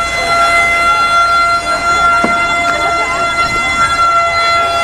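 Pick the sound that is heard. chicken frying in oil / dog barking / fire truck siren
fire truck siren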